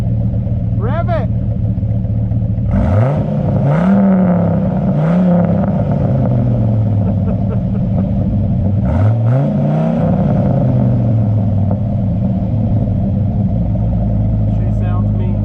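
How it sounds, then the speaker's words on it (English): A Dodge truck engine with a Magnaflow cat-back exhaust rumbles loudly at idle, then revs sharply several times, each burst rising and falling through a throaty exhaust. "here we have the Magnaflow catback exhaust."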